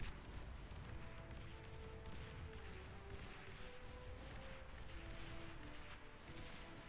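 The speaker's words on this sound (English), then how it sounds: "Interesting little rocket battle on the bottom here." A rocket battle in the real-time strategy game Beyond All Reason: a dense, continuous barrage of booming explosions and rapid weapon fire with no pauses, steady and loud throughout.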